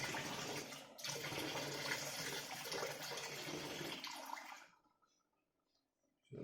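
Water poured from a kettle, a steady splashing stream for about four and a half seconds that stops abruptly, followed by near silence.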